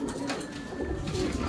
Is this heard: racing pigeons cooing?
yes